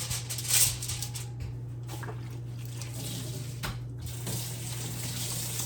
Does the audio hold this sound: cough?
no